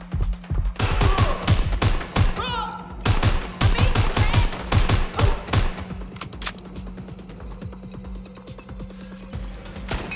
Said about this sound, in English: Incoming fire. I'm taking fire.